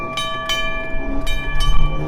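A trolley ride in town, loud rail-car rumbling with sharp repeated clanks and a sustained tonal whine over a close, continuous roll.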